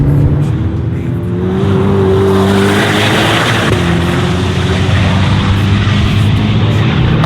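A 2025 Chevrolet Corvette ZR1 with a 1,064-horsepower engine driving fast, its loud sustained engine note droning and shifting in pitch steadily throughout, close and continuous.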